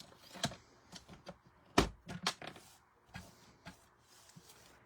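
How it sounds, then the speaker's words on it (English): Scissors cutting paper make several crisp snips and slicing sounds in irregular bursts, one louder cut near the middle, close and quiet otherwise. "take my scissors and do a little bit of cutting"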